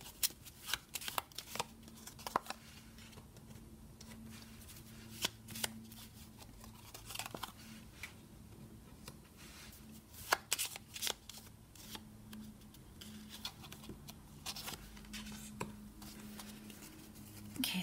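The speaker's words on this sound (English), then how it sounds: "These cards are not the easiest to shuffle." A deck of tarot cards being shuffled close up in repeated bursts of riffling and flicking, with quiet pauses between and soft talk in places.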